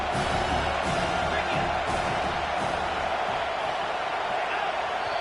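A packed stadium crowd roars at a Virginia Tech Hokies football game, a loud, continuous wash of cheering and shouting that holds steady without a break.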